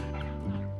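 Geese on a livestock farm give short, close, nasal honks and yelps over a steady low background hum.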